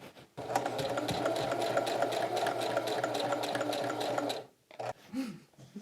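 Sewing machine stitching steadily for about four seconds, a loud, even motor whir with rapid needle ticks, then stopping abruptly, followed by brief quiet shuffling.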